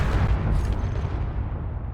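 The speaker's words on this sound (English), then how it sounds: "Explosion is nice." A warhead detonates in Space Engineers, a deep, heavy boom with rumbling low end that rolls on and slowly decays over a couple of seconds.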